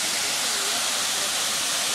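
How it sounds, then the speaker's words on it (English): A steaming hot spring waterfall in Guatemala gives off a continuous, close, broadband rushing hiss and roar, steady throughout with no speech. "It's steam, hot spring waterfall. It's all steam coming off of there."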